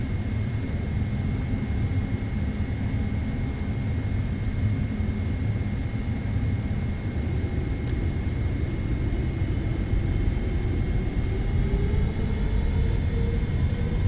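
A PMDG Boeing 777-300ER of Singapore Airlines starting its takeoff roll at night from Singapore in Microsoft Flight Simulator 2024, a steady, loud engine rumble with a faint rising whine and no voices.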